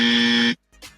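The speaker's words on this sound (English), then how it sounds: "let's drop the dummy buzzer for the sky" A dummy buzzer sound effect blares loud and harsh for about half a second, then cuts off abruptly into silence, followed by a brief faint noisy tail.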